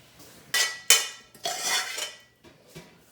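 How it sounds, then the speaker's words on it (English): Metal cooking pots clank and bang as they are swapped on the stove while making potato and leek soup, several sharp close clanks and a scraping slide, with no talk. "I think I'm gonna switch pots."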